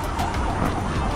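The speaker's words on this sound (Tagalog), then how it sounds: "Mga kalingap, may ambulansya. May emergency po ata." Ambulance siren on an emergency run, heard continuously and fairly loud with a steady wailing tone over road traffic noise.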